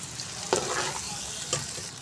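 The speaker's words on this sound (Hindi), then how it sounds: "अब प्याज को हमने हल्का सा कलर देना है। 2-3 मिनट तक इसको मैं फ्राई करूँगी।" Onions frying in ghee, a steady soft sizzle with two brief stirring scrapes of a spoon against the pan, close by and with no voices.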